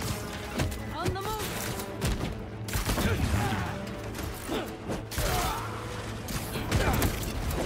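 Gunfire in the Marvel's Spider-Man 2 video game comes in scattered, rattling bursts mixed with crashes and clanking action, fairly loud, with a voice talking over the fighting.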